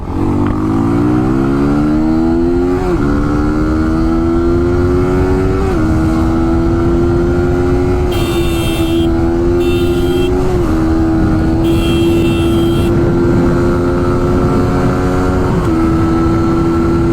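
A Suzuki GSX-R motorcycle engine roars loud and close, its pitch climbing steadily and dropping at each gear change, with a continuous high, buzzing drone throughout.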